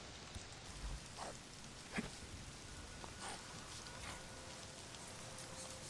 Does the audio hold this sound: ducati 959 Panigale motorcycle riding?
no